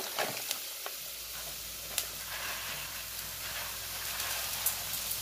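Rice poured onto onions that have begun to cook in a pan, giving a steady close sizzle with light stirring scrapes and a few sharp clicks throughout.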